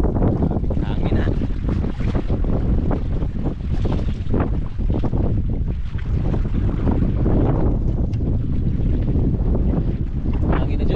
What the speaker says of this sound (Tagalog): Hangin, ha?